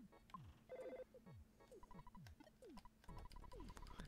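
A chiptune telephone ring from the video game EarthBound sounds as a repeated electronic bell tone, heard over busy retro game music with descending bass blips throughout.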